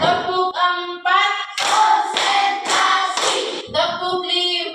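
Rhythmic hand claps from a primary school class in a religious education lesson, a few sharp claps in a row between stretches of a sung, counting voice, close and fairly loud.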